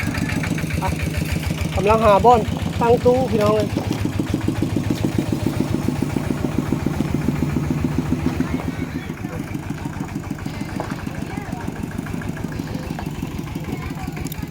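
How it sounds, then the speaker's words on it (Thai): A low, steady tractor engine chugs and idles throughout at a village festival, with someone talking loudly over it for most of the clip. "กำลังเที่ยวรถไถอยู่ทีมงานเขา"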